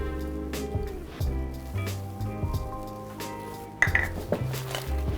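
Chicken wings tossed with melted butter in a bowl, close clinks and clatters of the bowl and utensil with soft wet squishes, in irregular bursts and one sharper knock midway.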